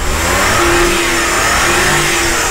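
A Suzuki Smiley Edition car engine revs up close and loud, a steady raised drone holding its pitch across the short stretch without any talking.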